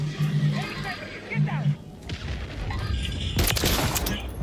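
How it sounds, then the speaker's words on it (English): Cruise missile explosions in a Call of Duty video game: heavy booms and blasts, with a loud broadband burst near the end, mixed with gunfire and game voices talking over the battle. "Friendly cruise missile deployed."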